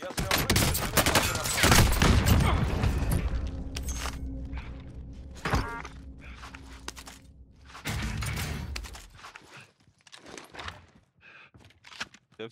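Gunfire in Warzone: bursts of rapid automatic shots and single cracks come in clusters between quieter gaps, with footsteps and someone talking over parts of the action.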